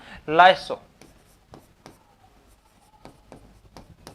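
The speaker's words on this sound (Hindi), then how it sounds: "उसके लिए आपको इसको अलग से लिख देता हूं" A teacher writes notes on a board during a science lesson, with short scattered scratches and taps of chalk or marker spaced across the clip after a brief burst of speech.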